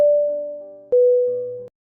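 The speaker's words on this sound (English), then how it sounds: "Many times you've likely heard an alarm sound like this on planes." An airplane cabin alarm chime for the crew sounds two clean electronic tones, the second slightly lower, each ringing out and fading.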